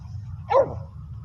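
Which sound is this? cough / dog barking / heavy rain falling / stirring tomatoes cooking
dog barking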